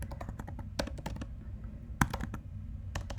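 Rapid typing on a computer keyboard while coding, with uneven clusters of key clicks and a few sharper taps, close and dry over quiet room tone.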